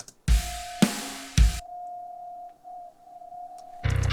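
A resonant bass note ringing near 710 Hz from a djent bass VST: a few loud plucked hits followed by a long, thin sustained tone that lingers quietly before another burst at the end.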